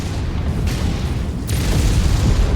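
Missile blasts in a MechWarrior mech combat game, a deep rumbling boom with sharp bursts around the middle and a heavier, louder rumble building toward the end, with no voices.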